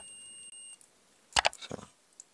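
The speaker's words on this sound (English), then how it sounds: "If you hear a continuity sound like this, then there is a short circuit." A multimeter gives a steady, high-pitched continuity beep that lasts under a second. A few close handling clicks and rattles from the probes follow. It is fairly quiet, with no speech.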